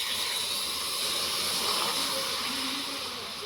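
Water poured onto sugar in a pan for caramel sets off a loud, steady steaming hiss that stays close and continuous for a few seconds, with no voices.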